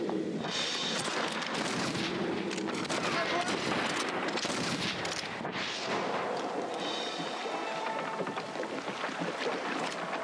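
Continuous gunfire crackles through a firefight in the video game Red Dead Redemption, dense overlapping shots over engine and water noise from a ferry, loud and sustained, with voices mixed in.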